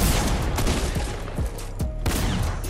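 Rapid gunfire from the Fortnite video game, a burst of several sharp close shots in quick succession, loud and without talk.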